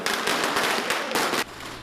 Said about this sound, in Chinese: 半暝民众提炮击炮声，现场的气氛热烈喷喷